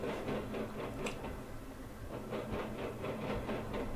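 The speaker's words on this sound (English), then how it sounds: "this auto train came off the BNSF Chillicothe sub to the GTW" A BNSF auto train rolls through on the Grand Trunk Western line after an interchange, its railcars producing a steady run of rhythmic clacks and rattles over the rails, fairly close and continuous with no voices.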